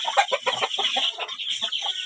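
A hen clucks repeatedly in short, choppy bursts, close and fairly loud, with a steady high-pitched background hiss.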